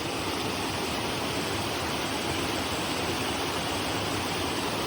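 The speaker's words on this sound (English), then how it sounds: "The waterfall is so impressive." A loud, constant roar of a steep waterfall in Southeast Missouri, dense rushing water filling the whole clip without pause.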